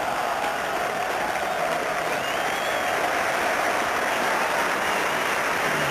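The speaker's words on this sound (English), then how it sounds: "Certainly, the crowd is alive again." A cricket crowd at the 1984 Benson & Hedges Cup semi-final between Yorkshire and Warwickshire applauds a boundary, with steady, far-off clapping and crowd noise that holds evenly throughout and no voice over it.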